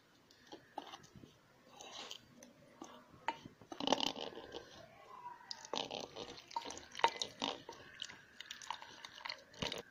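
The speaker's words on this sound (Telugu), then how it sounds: "ఇప్పుడు ఇవన్నీ బాగా మిక్స్ చేసుకొని మనం వాటర్ యాడ్ చేస్తూ బ్యాటర్ ప్రిపేర్ చేసుకోవాలి" Egg bajji batter with baking soda and salt is stirred by hand as water is added, giving wet squelching, slapping and dripping sounds in irregular close bursts without speech.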